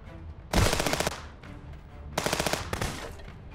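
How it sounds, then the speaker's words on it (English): Two long bursts of automatic gunfire from a magazine being emptied in the video game Contraband Police, loud and rapid, with a short gap between the bursts. "We're just going to mag dump over there."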